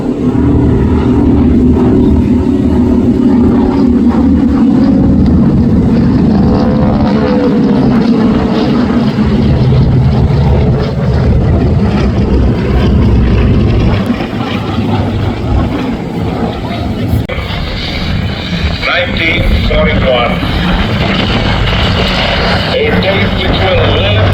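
Beechcraft C-45 twin propeller airplane flying past at an air show in Houston, a loud sustained engine drone that swells and fades, with an announcer talking over it.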